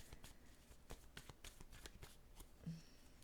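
Tarot or oracle cards are shuffled and drawn from the deck in a rapid series of crisp, close riffling flicks and snaps, alone with no talk.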